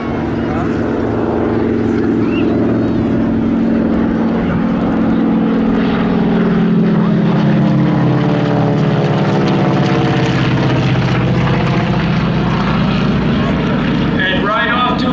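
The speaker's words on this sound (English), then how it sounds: "Here comes the Nakajima B5N2." A Nakajima B5N2 warbird's propeller engine roars steadily overhead at an airshow, loud and sustained throughout, with a rising and falling drone as it passes and a voice talking over it.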